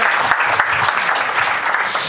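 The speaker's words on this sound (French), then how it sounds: "Vous pouvez applaudir tout à fait." Loud, close applause fills the room at an agribusiness event, many people clapping together in a dense and even burst that lasts about two seconds, with no voices over it.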